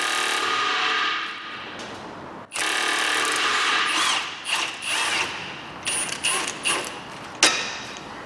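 A ratchet works a 15mm gearbox mounting bolt loose on a Ford Galaxy. A steady rasping run of clicks gives way to a string of short, separate ratcheting bursts, close up, with no one talking.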